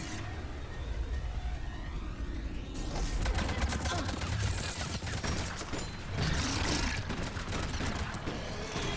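Sustained gunfire in Mass Effect 3 from an allied shuttle providing cover fire, a dense continuous barrage with engine rumble underneath, loud and steady throughout.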